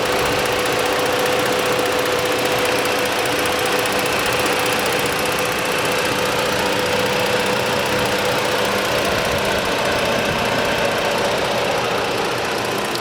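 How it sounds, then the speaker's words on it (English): A 2014 Ford Explorer Police Interceptor with a 3.7 liter engine idles steadily, a constant low rumble with a faint even hum running through it, heard close and uninterrupted with no talking. "Let me go ahead and be quiet so you can hear the engine"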